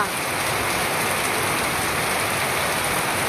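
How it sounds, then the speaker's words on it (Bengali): Heavy, steady rain pours down without a break, a dense even hiss that stays loud and constant throughout. "আজকে শুধু বৃষ্টি আর বৃষ্টি, সকাল থেকে চলছে একভাবে বৃষ্টি।"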